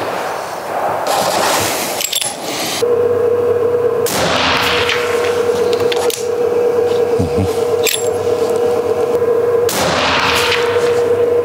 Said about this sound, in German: wir schießen jetzt